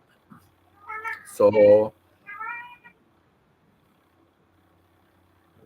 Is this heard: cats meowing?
yes